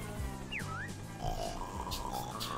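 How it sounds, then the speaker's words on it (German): A cartoonish pig in the video game Yooka-Laylee gives a few short oinks and grunts over game music and sound effects, clear and close. "Guck mal, da ist ein Schweinchen."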